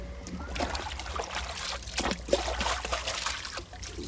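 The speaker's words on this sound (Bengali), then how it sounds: "আর মিক্সচারটা ধুয়ে দেখাও দিদি" Running water splashes and trickles over a blender jar as it is rinsed clean, a soft, steady wash with brief louder gushes.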